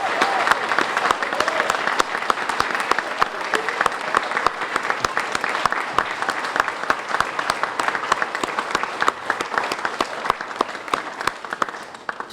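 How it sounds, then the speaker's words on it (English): Long, full applause from a standing audience at a graduation ceremony, dense clapping with sharp individual claps standing out, holding steady for several seconds and beginning to thin toward the end. "Let's give our graduates a round of applause."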